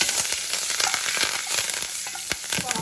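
Curry leaves and dried chillies sizzle and crackle hard in hot oil, close up, with sharp pops and a steady frying hiss.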